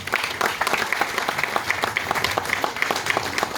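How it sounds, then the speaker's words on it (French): Audience applause at a public ceremonial speech, a dense, steady wash of many hands clapping together, fairly loud and sustained for the whole stretch with no talk over it. "il y a un grand merci à dire au président Chalus qu'il faudrait qu'on puisse applaudir également."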